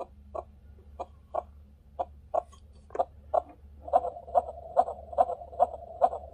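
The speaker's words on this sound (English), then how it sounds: "Faster heartbeat." Faster heartbeat sound effect from a baby crib mobile projector, a string of quick regular thumps that speed up and grow louder toward the end, close and clear over a faint steady hum.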